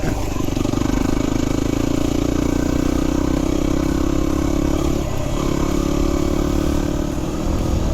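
Engine of a Yamaha WR250R motorcycle on an off-road ride to Gunn Point, a loud steady mid-pitched drone held close with a slight dip in revs partway through, along with rushing wind and clattering from the track.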